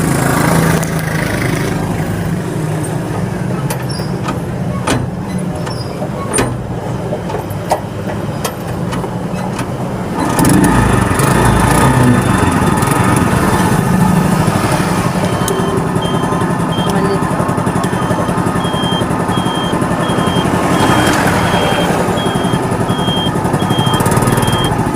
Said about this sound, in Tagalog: Sasakyan, padaanin natin. Ang bagal niya.